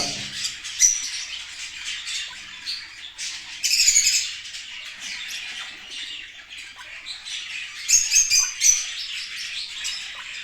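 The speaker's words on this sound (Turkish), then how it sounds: "Gördüğünüz gibi arkadaşlar Forpus yavrularımız da" Forpus parrotlet chicks in a nest chirp and squawk continuously at close range, with high, raspy overlapping calls and louder bursts of begging.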